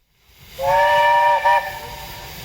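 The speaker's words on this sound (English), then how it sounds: "Britannia announces her arrival into the station just as Leander's safety valves pop open in an ear-splitting burst of steam" A steam locomotive whistle sounds at a heritage railway gala station, one loud sustained blast with a brief second peak, as safety valves let off steam in a continuous hiss that carries on afterwards.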